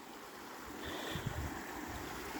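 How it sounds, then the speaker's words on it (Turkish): A gentle, steady rush of flowing water, like a nearby stream, with soft low gurgles rising briefly in the middle. "Şöyle şu derenin sesine, derenin suyuna bir bakalım arkadaşlar."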